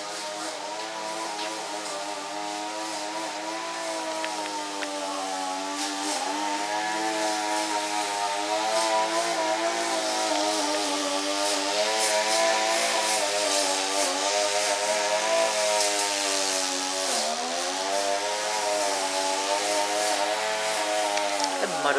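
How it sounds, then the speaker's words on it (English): A grass cutter running outdoors, a continuous buzzing small two-stroke engine drone that wavers in pitch as it works, moderately loud and steady throughout with no talking. "No, not a ninja, it's just a grass cutter"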